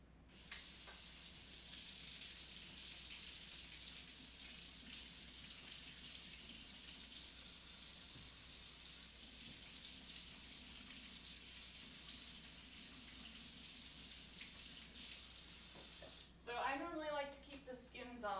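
Potatoes rinsed under a running kitchen tap: a loud, steady rush of water fills most of the clip, then stops and a voice speaks at the end.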